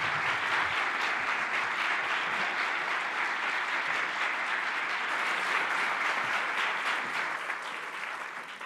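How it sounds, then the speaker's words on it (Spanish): Sustained applause from an event audience fills the room steadily, a dense wash of clapping that holds for several seconds before fading slightly at the end. "este aplauso que estoy convencida que vais a dar es para todos vosotros"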